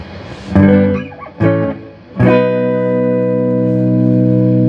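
A Les Paul electric guitar, shown off for its extra tricks, rings out three close strummed chords, the last left to sustain with a long, steady decay; played alone with no talking.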